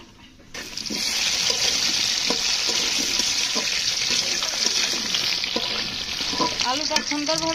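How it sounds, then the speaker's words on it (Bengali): Potato pieces, cut large, frying in oil in a kitchen during a chicken curry preparation, giving a steady loud sizzle throughout with occasional clinks and stirring, no talking. "আলুটা সুন্দরভাবে ভাজা হয়ে গেছে,"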